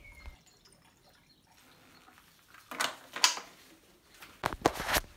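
Distilled water and then 33% hydrochloric acid poured into a laboratory addition funnel, heard as a few short splashing, trickling bursts after a quiet start, fairly close and alone.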